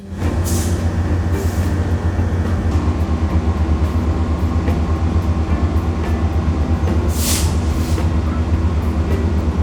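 A Metrolink commuter train pulls into a Southern California station under heavy braking, a loud, steady rumble with a droning low hum and intermittent high brake squeals, close by.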